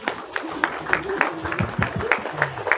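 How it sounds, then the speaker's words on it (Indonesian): Audience applause at a bishop's address in Nabire, Papua, with scattered hand claps mixed with voices and crowd noise around them. "Sekali lagi tepuk tangan untuk kalian."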